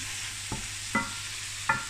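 Fideua with shrimp and squid being stirred in a paella pan: a steady low sizzle broken by three brief scraping strokes of the spoon, close and fairly quiet, with no voices.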